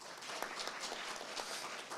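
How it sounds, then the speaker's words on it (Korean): Faint applause from a crowd, soft scattered clapping heard at a distance for a couple of seconds. "세션의 첫 장을 열어주신 박영실 사무관님께 다시 한번 박수 부탁드립니다"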